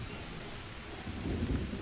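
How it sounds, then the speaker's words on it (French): Rain in the jungle survival video game Green Hell hisses steadily at a faint level, with a low rumble swelling toward the end like distant thunder. "Il pleut."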